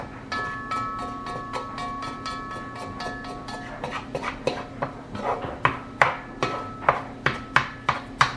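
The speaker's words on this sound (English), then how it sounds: "I just stir that all around till everything gets mixed in." Spoon stirring a pulled pork BBQ roux mixture in a pot: a steady run of sharp clinks and scrapes that grow louder and more evenly spaced, close up, with a faint steady hum underneath.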